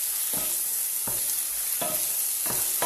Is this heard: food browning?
yes